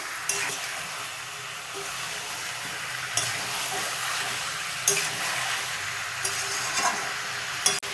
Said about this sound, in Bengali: এবার নুন দিয়ে আমি ভালো করে নাড়াচাড়া করব